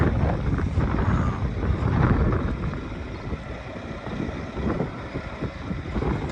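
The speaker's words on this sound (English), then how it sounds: "It is a windy day." Wind blows hard across the microphone, producing a rough, gusting rumble that swells and eases without pause.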